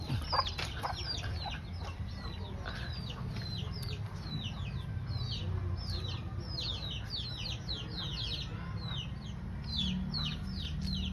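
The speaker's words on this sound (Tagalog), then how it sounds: "Itong manok." Chickens cluck and chirp repeatedly in quick bursts over a steady low background hum, moderately close, with no one talking.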